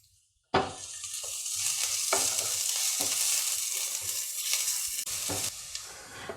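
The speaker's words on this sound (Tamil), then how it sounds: "பச்சை மிளகாய் ஃப்ரை ஆயிடுச்சு" Sliced green chillies and onions hit hot oil with a sudden loud sizzle that holds steady, broken by a few scraping stirs of a spatula in the pan, with no voices.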